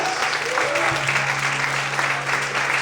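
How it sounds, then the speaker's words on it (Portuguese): A church congregation at a Portuguese-language morning service applauds steadily and loudly, a dense wash of clapping with a faint voice underneath throughout. "Será que você pode glorificar e aplaudir ao Senhor bem forte nesta manhã?"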